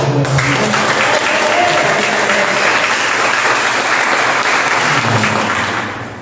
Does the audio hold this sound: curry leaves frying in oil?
no